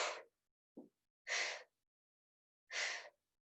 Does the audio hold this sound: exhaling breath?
yes